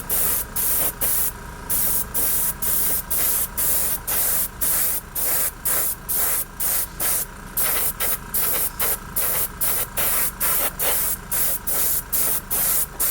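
A Testors Aztek airbrush sprays craft acrylic paint in a loud, close hiss, cut into short regular bursts of about half a second each that repeat steadily throughout, with no talking.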